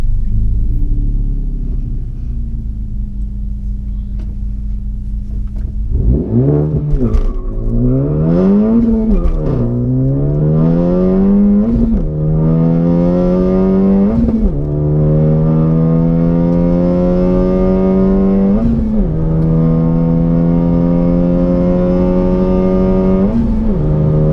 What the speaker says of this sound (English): Jonathan Woolley in that Type-R Civic laying it down up against that Mitsubishi Evo.